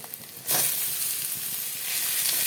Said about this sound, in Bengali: পেঁয়াজটাকে ভালো করে ভাজা ভাজা করে নেব